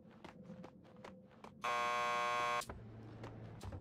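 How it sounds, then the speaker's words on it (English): A door buzzer from the Max Payne 2 video game sounds once as a loud, harsh electronic buzz lasting about a second, rising sharply above a quiet background of footsteps and faint clatter. "Just press the buzzer by the door."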